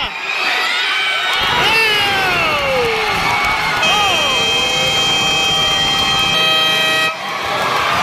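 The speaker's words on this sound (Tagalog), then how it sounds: "Hala, hiyawan!" Crowd at a final basketball game cheers and shouts loudly while horns blare, with a long sustained horn blast in the second half over the roar and excited voices throughout.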